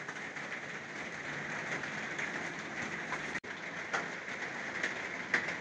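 Steady rain falling in a continuous broadband hiss, fairly constant in level, with one sharp click partway through and a few faint higher taps. No one speaks.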